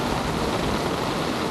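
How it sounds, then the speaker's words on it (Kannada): Rain in Bengaluru pours as a loud, dense, unbroken hiss, a uniform rush of water with no pauses or voices. "ಮಳೆ ಇವಾಗ ಸ್ವಲ್ಪ ಕಮ್ಮಿ ಆಗಿದೆ"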